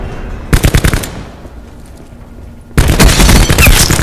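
Light machine gun fire in Call of Duty Black Ops 4, a quick rattling burst followed by a quieter gap, then a loud sustained stretch of rapid automatic fire mixed with other gunfire.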